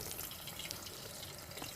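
Fish fries in deep hot oil, a steady, fairly quiet crackling sizzle with fine popping throughout and no talking.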